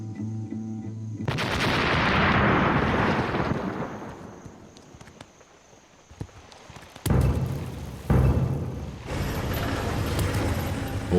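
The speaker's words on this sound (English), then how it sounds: "Controlled explosion ready." A controlled explosion destroying a landmine in Cambodia: a loud, sudden blast followed by a long rumbling roar that slowly fades, then several sharp, heavy booms near the end.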